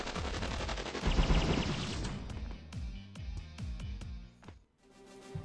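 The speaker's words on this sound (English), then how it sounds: "Now I use bombs." Bombs going off in Epic Battle Fantasy 4 set off a dense crackling burst of explosions. A run of sharp, evenly spaced blasts follows, clear and moderately loud over game music.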